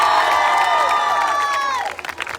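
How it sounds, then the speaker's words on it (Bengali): An audience claps loudly together at a stage welcoming ceremony, with cheers riding over a sustained burst of applause that thins out into a few scattered claps at the end. "একটু সবাই মিলে জোরে হাততালি হয়ে যায়।"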